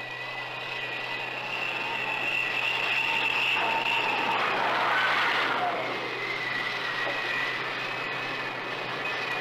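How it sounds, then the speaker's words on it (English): F-4 Phantom jet engine heard as a steady, whining roar with a high tonal pitch, swelling louder around the middle and easing off, with no talk over it. "like the sound of the F4 Phantom."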